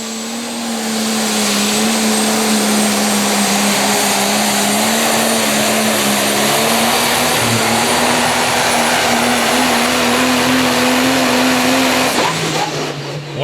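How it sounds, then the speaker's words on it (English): A Ford Super Duty pickup with a Cummins diesel engine spools up at a truck pull, a loud, sustained roar with a rising whine that holds steady for about twelve seconds before easing off near the end. "he's going to spool up the Super Duty here. Cummins power under the hood."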